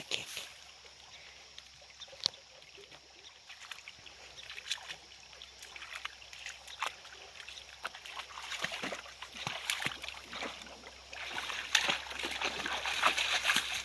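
A Catahoula dog splashes and sloshes through water at a camp, with paddling splashes and scattered sharp spatters growing busier and louder toward the end, over a steady background of flowing water.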